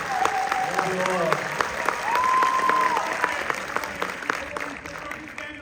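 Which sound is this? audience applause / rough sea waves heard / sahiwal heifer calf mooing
audience applause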